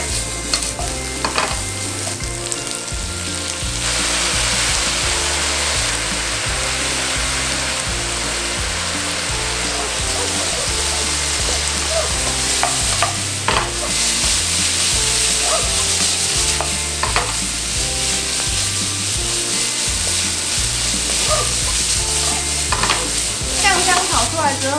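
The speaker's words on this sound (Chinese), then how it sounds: "茄子跟四季豆都看稍微炒软之后啊，我们就倒入酱油、酱油膏、白胡椒、糖" Eggplant and green beans stir-fried in a hot wok with soy sauce, soy paste, white pepper and sugar, a steady loud sizzle throughout with repeated scraping and clattering of the spatula, close and continuous.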